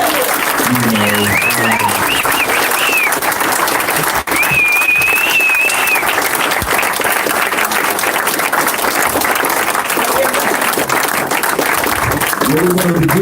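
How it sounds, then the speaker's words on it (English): An audience gives a family a long round of applause at a Love Beats Hate gathering, steady loud clapping with a few shouts and cheers rising above it. "can we at least just give the family a round of applause"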